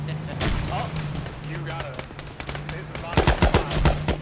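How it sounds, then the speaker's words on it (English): Bursts of Arma 3 video game gunfire crackle over a noisy backdrop, with a quick volley of sharp shots near the end, mixed with indistinct voices and a low hum. "Bullets were whizzing in every direction."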